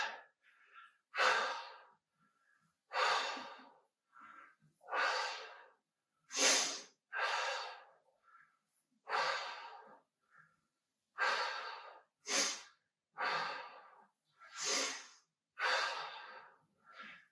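Heavy, rhythmic exhalations repeat about every second or so during a full-body workout, each a loud breathy rush with short pauses between, close and alone without talk.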